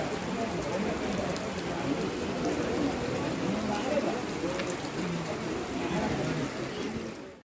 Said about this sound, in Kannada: ಮೇಲೇ ಮಳೆ ಸ್ಟಾರ್ಟ್ ಆಗೋಗಿದೆ